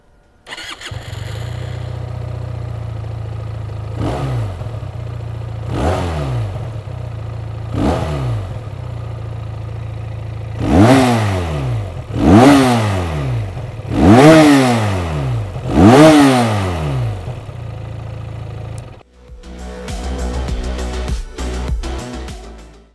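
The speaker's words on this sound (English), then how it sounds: "this exhaust note might sound familiar to a lot of you because this engine is a derivative of one of the older Benelli engines" QJ SRK 400 motorcycle with a Benelli-derived engine: a start, then several sharp throttle blips, each rising and falling, three lighter ones followed by four stronger ones, then settling to a rough idle.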